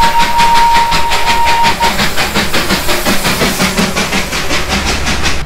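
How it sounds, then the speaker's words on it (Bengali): The historic Darjeeling toy train passes, loud and close, with a rhythmic rattle of wagons and hissing steam over a steady rumble, a thin whistle-like tone at the start. "দার্জিলিং ঢুকতে না ঢুকতেই কিন্তু আমাদের চোখে পড়ে গেল দার্জিলিং এর ঐতিহাসিক টয় ট্রেন"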